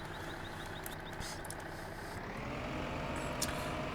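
A 120 horsepower tractor engine in Farming Simulator 2015 runs at a steady drone, pulling a drill uphill, with a constant low rumble that swells slightly toward the end.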